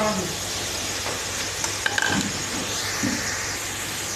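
Half a kilo of onions tipped into a pan of frying desi chicken karahi, setting off a steady broad sizzle with scraping stirs and a few brief clatters, close and continuous with no talking.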